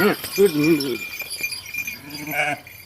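Pregnant sheep bleat close by at a village farm, one after another with wavering calls, while faint voices murmur in the background.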